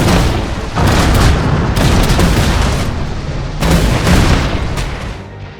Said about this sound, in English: Contact! Enemy fire!